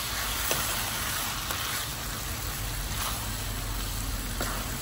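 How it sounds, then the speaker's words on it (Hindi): Chana dal being stirred in a hot pan, a continuous loud sizzle with soft scraping beneath it. "चने की दाल डाल दी, मिक्स कर लेती हूँ।"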